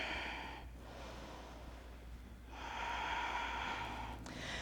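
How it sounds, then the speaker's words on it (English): Slow steady breathing held in a yoga backbend, a soft airy inhale then a longer, slightly louder exhale, close and quiet over low room hum. "A few steady breaths here."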